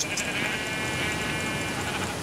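Sheep bleating in the Minecraft video game, a dense steady wash of overlapping bleats from many animals that stays fairly loud throughout with no talk.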